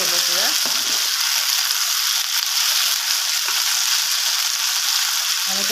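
Baby potatoes open-frying on full flame give a loud, steady, dense sizzle and crackle that runs unbroken throughout, with a faint murmur of voice at the very start and end.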